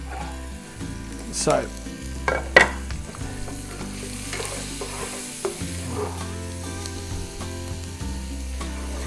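Half an onion sizzles and crackles in hot oil for a coconut prawn curry, a steady close frying hiss with a few stirring scrapes and clatters, under a low background hum and a brief spoken word.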